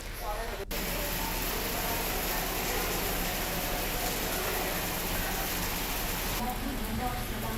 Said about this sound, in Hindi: तो झमाझम बारिश का दौर जारी है